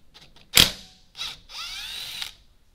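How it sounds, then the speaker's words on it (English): A small 3/8-inch impact gun works on a lock nut on XTRAC drop gears, giving a sharp loud burst followed by two shorter whirring hammering bursts, close by and without speech. "just this little 3/8 gun should pull it off"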